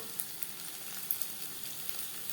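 Kakrol (spiny gourd) frying in a pan, a faint, steady hiss of oil with a few light clicks from stirring, no voices.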